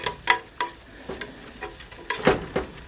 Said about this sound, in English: you just want to kind of spread that around and let that cook down in your meat